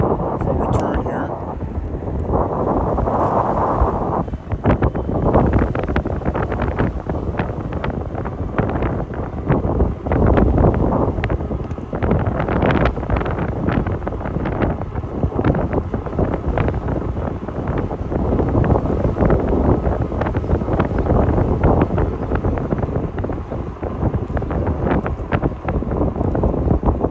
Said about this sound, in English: we're going right into the wind right now before we turn here